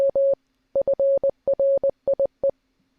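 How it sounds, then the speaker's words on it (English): Morse code beeps as a single steady electronic tone broken into short dots and longer dashes in quick groups separated by brief pauses, loud and clean with nothing else heard. "I was just trying to do the whole intro in Morse code."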